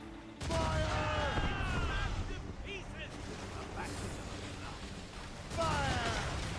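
Ship cannons firing in the naval combat of the video game Assassin's Creed Rogue, loud booming blasts at the start and again near the end, with shouted voices and battle noise between.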